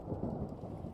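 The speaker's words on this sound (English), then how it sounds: "did I just hear thunder?" Low rumbling thunder from a storm in the survival video game Vintage Story, a deep continuous roll with rain noise, heard alone and fairly loud for a moment.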